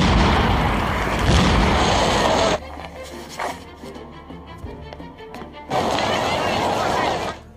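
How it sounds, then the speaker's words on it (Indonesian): Car bomb explosion in a sniper film, a loud roaring blast that cuts off abruptly, leaving quieter rumbling debris before a second burst of roaring noise. "ledakan itu ternyata mengakibatkan burung peliharaan Boris mengalami luka bakar yang sangat parah"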